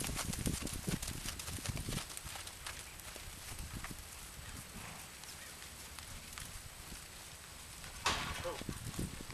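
Horse on a halter steps forward, its hooves clip-clopping in soft, uneven thuds against a noisy outdoor background with faint voice-like murmurs.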